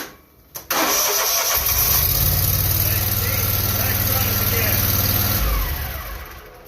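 2019 Hustler zero-turn riding lawn mower with a Briggs engine and EFI: a short starter crank catches into a loud, steady close running idle, then begins to fade near the end, with speech present.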